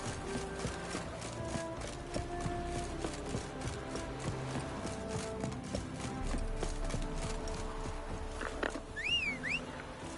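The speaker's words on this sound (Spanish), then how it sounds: "Y vamos en caballo." A horse carries its rider in the video game The Witcher 3, its hooves clip-clopping at a steady rhythm under quiet background music, with a brief chirp near the end.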